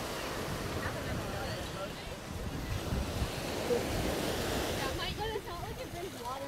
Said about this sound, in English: The sea is pretty rough though.